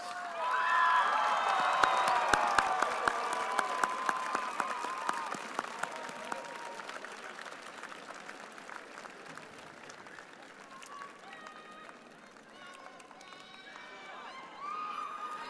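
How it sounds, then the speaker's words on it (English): Graduating seniors at a high school commencement give a long, loud round of applause mixed with crowd noise and scattered cheers, gradually thinning out toward the end. "give these fine folks a resounding round of applause"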